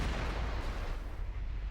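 Explosions in the video game Mass Effect 1 Legendary Edition: a dense, continuous low rumble with crackling debris, held at a fairly steady moderate level with no talking.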